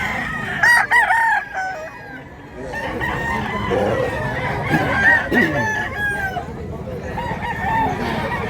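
Roosters for sale at a poultry market in Mantalungon, Cebu crow and cluck repeatedly over a busy background of chatter and market noise, the calls close and overlapping through the stretch.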